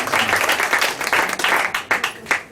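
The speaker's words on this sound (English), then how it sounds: "Let me hear you clap." A live radio show audience at a historic hardware store in downtown Franklin, Tennessee, breaks into lively, dense applause. The clapping is close and continuous, with sharper individual claps standing out toward the end.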